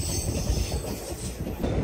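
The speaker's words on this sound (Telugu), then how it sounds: "కోడూరు నుంచి మన ట్రైన్ అయితే బయలుదేరిపోయింది." Hubballi Express pulling away from Koduru station on the Tirupati–Guntakal line, with loud, close rumbling wheels and rattling carriages, steady throughout.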